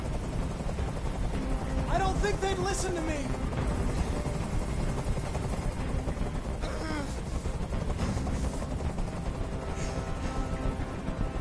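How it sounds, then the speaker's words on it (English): Helicopter hovering overhead during a hostage standoff in the video game Detroit: Become Human, a steady loud rotor drone filling the whole clip beneath a man's speech and tense score. "Tell that helicopter to get out of here."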